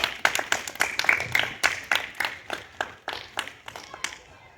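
Applause for a student debate speaker at a school debate, scattered individual claps from a small audience with uneven rhythm, fairly close, no talking over it.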